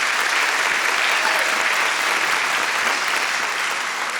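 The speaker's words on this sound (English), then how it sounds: "a huge round of applause" A large audience at a live Broadway-themed concert in a New York congregation gives a loud, dense round of applause. It is continuous and sustained throughout.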